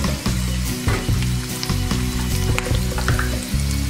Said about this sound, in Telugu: ఇప్పుడు మనం కొద్దిగా ఇంగ వేసుకుందాం